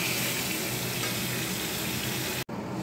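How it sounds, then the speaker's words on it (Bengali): Two fish heads fry in hot oil with a steady, dense, close sizzle that crackles on without a break and then cuts off abruptly near the end, with no voices. "এই জন্য এই দুটো মাছের মাথা ভেজে নেবো এখন।"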